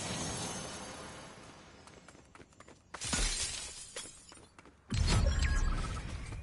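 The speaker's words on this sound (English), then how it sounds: "Heard the glass right on me." Two sharp bursts of shattering glass break out in a Fortnite match, loud and close over a quieter background of game noise, with the second crash heavier and fuller.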